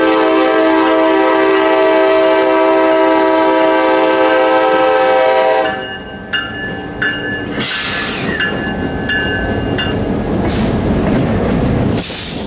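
A freight locomotive horn blares in long sustained chords, then cuts to squealing wheels and clanking carnival train cars rolling past close by on a CSX branch line, with more short horn blasts.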